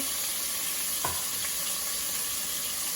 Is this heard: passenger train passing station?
no